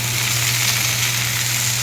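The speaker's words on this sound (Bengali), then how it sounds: "কড়াইয়ে তেল দিয়ে জিরে ফোড়ন দিয়ে ফুলকপি আর আলুটা ভাজতে দিয়ে দিই" Cauliflower and potato pieces frying in hot oil with cumin seeds and a little chopped tomato in a wok, giving a steady, close, loud sizzle over a low hum.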